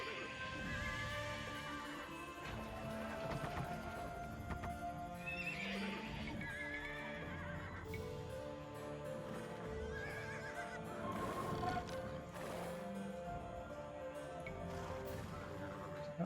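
Horses neigh repeatedly in the Age of Empires 2 video game during a Greece campaign battle, with clip-clopping hooves, clashing and crashing combat sounds, and game music layered steadily throughout.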